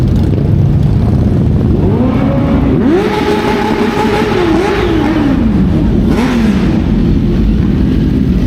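Motorcycle engines rev hard and loud at a Sunday-morning ride gathering near Senayan City, pitch sweeping up and falling in repeated throttle blips over constant engine noise.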